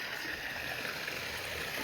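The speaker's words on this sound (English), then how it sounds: "This little waterfall" A small waterfall pours into a backyard pond with an even, continuous splashing rush, close and steady with no pauses.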